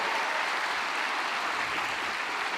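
Steady applause from a keynote audience at a community conference, an even, continuous wash of clapping with no talk over it.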